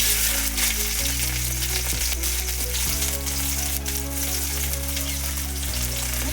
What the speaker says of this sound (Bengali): এবার আনাজগুলো এক এক করে ভেজে নিচ্ছি